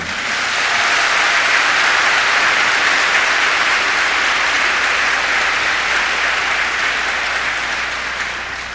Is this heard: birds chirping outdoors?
no